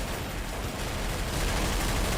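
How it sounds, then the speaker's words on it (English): Constant dense gunfire in Counter-Strike: Source zombie mode, many overlapping shots merging into a loud, unbroken barrage. "if you can hear me over all this gunfire"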